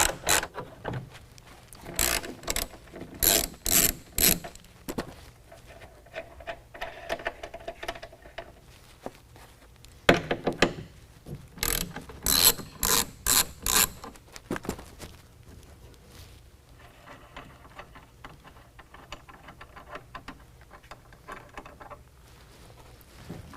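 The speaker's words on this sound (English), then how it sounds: "The way you remove it is you take a 13mm and you start pulling out the bolts." A ratchet wrench on 13mm bolts in the stake pocket of a 2019 Chevy GMC 1500 truck bed clicks in quick rapid bursts, close up, with quieter pauses between runs.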